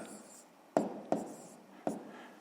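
Numbers written by hand for a fifth-grade maths exercise, three sharp pen taps and strokes on paper at irregular intervals against a quiet background.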